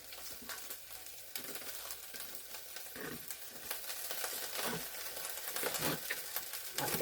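Dandelion greens and fresh garden green onions fry in a skillet, a steady close sizzle with crackling bursts and faint stirring that grows slightly louder toward the end.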